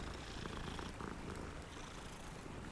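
A cat purrs in the video game Hogwarts Legacy, a steady low rumbling purr that fills the whole moment without pause.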